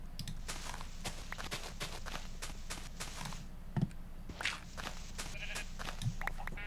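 A sheep in the video game Animal Crossing: New Horizons bleats a couple of times amid soft repeated footsteps and light game ambience, fairly close and moderately loud.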